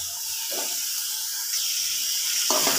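Potato pieces hiss and sizzle steadily as they drop into hot spiced oil for a crab curry, a loud, continuous frying noise with a few brief stirring bumps.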